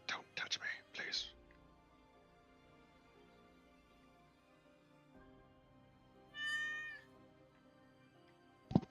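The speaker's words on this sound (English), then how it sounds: "The cat interjects." A cat meows once, a clear drawn-out call rising over a quiet room, with people talking and whispering just before it and a voice returning at the end.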